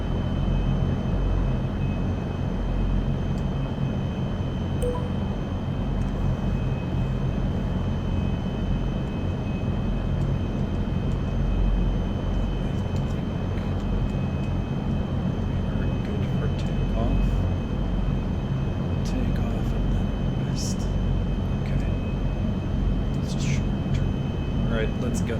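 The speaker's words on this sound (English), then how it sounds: "Let's gun it down the runway here." Airplane engines in Flight Simulator 2024 roar steadily during a takeoff roll down the runway, a loud, continuous broadband rumble with a faint high whine, unbroken for the whole stretch.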